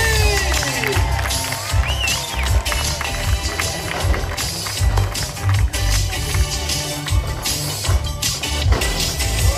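Crowd of spectators cheering, whooping and clapping at an amusement park diving stunt show, loud and continuous with shouts rising over the roar of applause.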